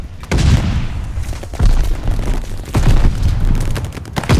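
Dense Call of Duty: Vanguard multiplayer gunfire, loud booming shots and bursts arriving from several directions in close succession, heavy and continuous with no voices.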